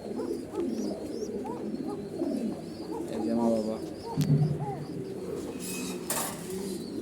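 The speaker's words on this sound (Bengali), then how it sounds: "এই যে কোকা কবুতর" Fancy pigeons coo softly and repeatedly nearby, their low burbling calls running under a person speaking.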